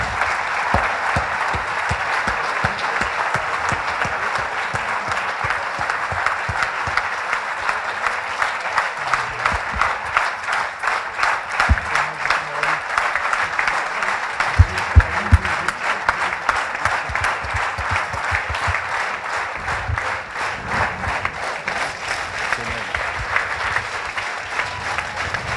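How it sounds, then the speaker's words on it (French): A large audience at a French-language event gives sustained, loud applause, a dense rhythmic roll of many hands clapping that continues steadily for about twenty-five seconds with a few sharper claps standing out. "Je pense qu'on peut l'applaudir très fort"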